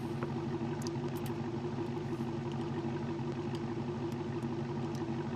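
A supercharged Hellcat V8 in a cop car idles steadily in BeamNG.drive, giving a constant low, lumpy rumble with light clatter and no voices.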